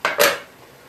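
Cooking pot checked by hand, its lid lifted with two quick metallic clanks in close succession, followed by a short fading ring.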